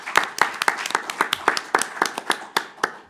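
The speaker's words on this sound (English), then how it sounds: "I think we can give them a strong round of applause." Audience at a symposium applauding the panel speakers, a brisk run of clear individual claps from a smallish crowd, close and sharp, with no talk over it.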